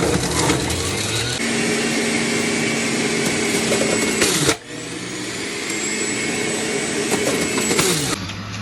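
An electric juicer grinds whole carrots, a loud steady motor whine with harsh shredding texture, briefly dipping midway as the pitch drops and recovers, then running on strongly.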